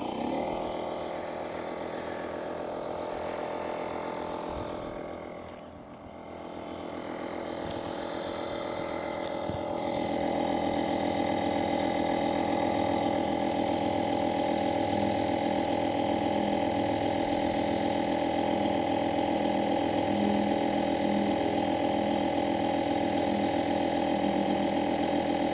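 A Craftsman 20V inflator runs with a hose attached, pumping up pressure from about 34 PSI: a steady, continuous mechanical motor hum with a rattling buzz that dips briefly near the start, then holds even and close.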